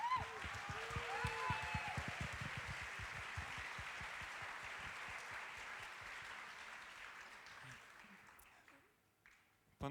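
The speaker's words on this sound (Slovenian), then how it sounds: "tako da še za vas en res velikanski aplavz" Audience applause at a pop-jazz a cappella concert: many hands clapping in a full, even rush that holds for several seconds, then thins and tapers off near the end, with faint voices mixed in.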